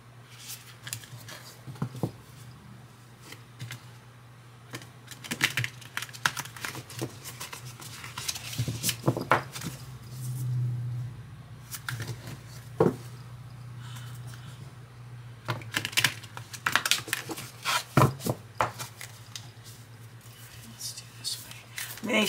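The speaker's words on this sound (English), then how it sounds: "let me shake these up a little bit," Soft papery rustling and shuffling of large oracle cards with intermittent crisp flicks, close by, repeating irregularly over a low steady hum.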